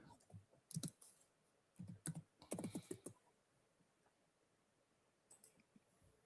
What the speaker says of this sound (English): Cody, if you wouldn't mind just typing in Adolph Rupp, Kentucky, really quick.